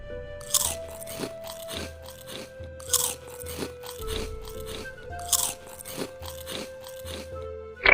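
A cartoon character noisily crunches salty snack chips in repeated loud, crackling bites at a close, uneven rhythm, with sustained musical tones running beneath.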